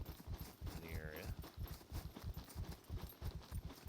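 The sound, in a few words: horse hooves clip-clopping in the video game SCUM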